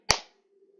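A single sharp hand clap from a clapping game chant, loud and close, quickly decaying into near silence with a faint low hum afterward.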